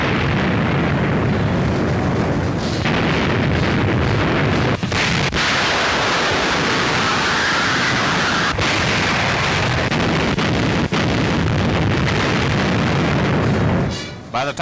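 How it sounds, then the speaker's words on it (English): Artillery bombards Tobruk in wartime Libya, with a loud, dense wall of rumbling noise broken by several sharp booms and blasts. "Tobruk was heavily bombarded by our artillery before the final assault was made"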